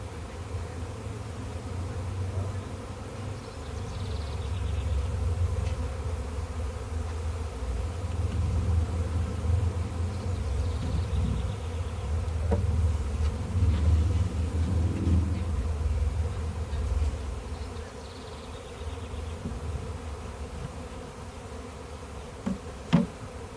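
Honey bee swarm being caught outdoors in Galesburg, a dense continuous buzzing of many bees close by, steady and loud for the whole stretch with no talk over it.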